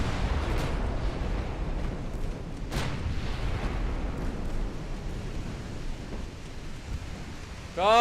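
Secondary guns on a warship open fire at a close enemy vessel in the naval game Ultimate Admiral Dreadnoughts, a steady rumbling barrage of booming shots with sharp reports, rolling on continuously.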